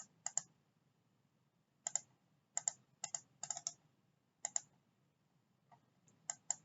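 Quiet computer keyboard typing while entering figures for a bank reconciliation in QuickBooks Online, scattered bursts of soft clicks separated by pauses, with nobody speaking.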